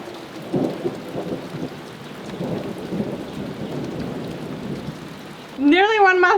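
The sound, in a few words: rain and thunderstorm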